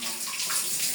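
Tap water running and splashing while a water filter part is washed clean, a steady close rush with no talk.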